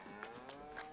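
Cattle mooing in Farming Simulator 19, a low drawn-out bovine moo with tonal harmonics, quiet and alone over a faint game backdrop.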